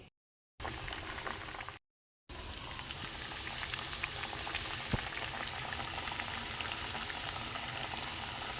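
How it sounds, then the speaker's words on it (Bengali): Gobindobhog rice pitha dough pieces frying in hot oil give a steady, close bubbling hiss that keeps up after two brief silent gaps, with small pops and spits scattered through it and no talking. "এখানে দেখুন তেলও গরম হয়ে গেছে। আমি একটা একটা করে ছেড়ে দেবো।"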